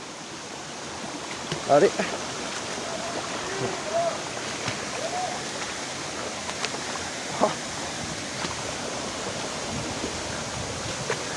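A river waterfall roars as a steady, broad rush of falling water heard up close, with a few brief splashes and a person speaking briefly over it.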